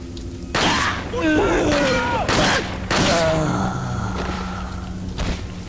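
Resident Evil 4 gunshots, a few loud sharp bursts spaced about a second apart, with someone talking over and between them.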